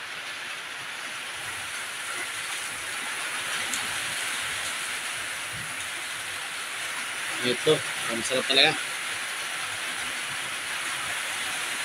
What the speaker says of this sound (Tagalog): kasi ang lakas na ulan eh. Masyadong hindi marinig yung boses ko.